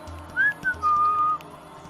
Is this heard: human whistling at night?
yes